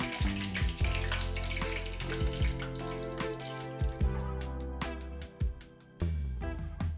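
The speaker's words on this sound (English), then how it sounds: "I like to just gently spread them apart in the oil so they don't stick together." Mini arancini rice balls frying in hot oil, a dense steady sizzle with bubbling crackle and repeated soft clinks and thumps as they are spread apart, close and fairly loud throughout.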